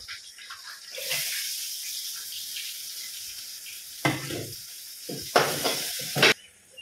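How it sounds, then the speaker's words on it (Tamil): Onion and garlic sautéing in a pan for fish curry, a steady sizzling hiss broken by louder bursts of frying and stirring, close and alone with no talk. "பூண்டு நல்லா வதங்கிடுச்சு இப்போ நம்ம வெங்காயம் சேர்த்துக்கலாம்"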